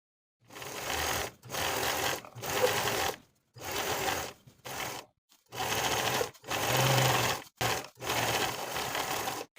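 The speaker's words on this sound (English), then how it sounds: "sew the lining to the seam allowance with about an 1/8 inch seam allowance all the way around" A sewing machine stitches a dress lining to the seam allowance in repeated runs of steady mechanical whirring, separated by short pauses, close and clear with no talking.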